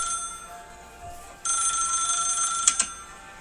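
A telephone rings in a play run-through, a steady electronic tone holding from the midpoint to the end with a couple of sharper bursts near the close, moderately loud against quiet room noise.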